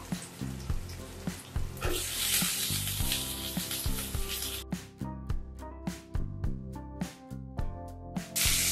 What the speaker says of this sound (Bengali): এখন আমি টমেটোটা দিয়ে দেব।